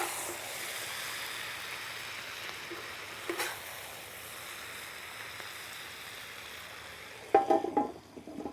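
Potatoes frying in bacon fat in a skillet over an open fire give a steady soft sizzle throughout, with a brief louder crackle near the middle and a burst of louder clatter at the end.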